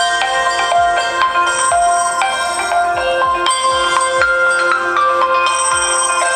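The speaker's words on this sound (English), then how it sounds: "Let me check a ringtone that is present on LG." A built-in ringtone on an LG G8X ThinQ smartphone plays a bright, bell-like electronic melody of repeating tones, loud and close with no talking over it.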